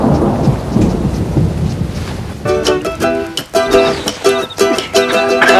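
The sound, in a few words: rain and thunder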